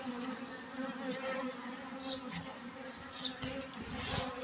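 A dense, steady buzz of many honeybees swarming close together at a hive, continuous and fairly loud with no voices.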